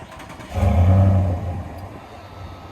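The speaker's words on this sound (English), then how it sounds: "let's go ahead and start the car really quick so you guys can hear this exhaust" A 2024 Ram 1500 Limited pickup starts by remote and its exhaust swells into a brief, loud rev, then settles to a steady, lower rumble heard from outside the truck.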